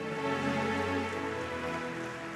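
Rain falls steadily outdoors in a desert region after a long dry spell, an even dense hiss of drops on surfaces that continues unbroken with no voices.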